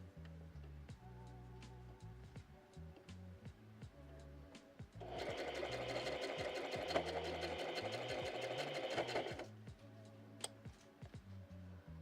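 A sewing machine runs steadily for a few seconds, stitching a very narrow seam, its rapid mechanical whir loud and close, with quieter ticks and handling noises before and after.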